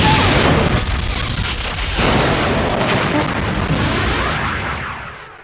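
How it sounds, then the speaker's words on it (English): Borg cube firing weapons in a 1996 Star Trek Borg FMV game, a loud booming blast followed by a long rumbling explosion roar that slowly fades over several seconds, with no voices. "The Borg cube is firing."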